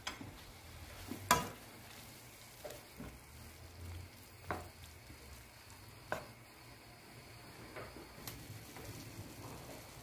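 Pasta with eggplant, scamorza cheese and basil stirred in a pan, soft intermittent scraping and clicking strokes over a faint low sizzle, quiet and close.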